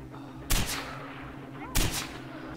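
Gunfire in the video game Far Cry 4, two loud sharp shots about a second apart over a steady low game background.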